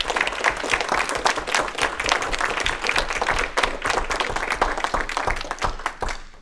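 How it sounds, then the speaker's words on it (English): An audience at a student presentation event applauds its presenters, a lively, continuous round of many hands clapping with distinct individual claps, fairly close and steady for the whole stretch. "Let's give another round of applause for all of our presenters today."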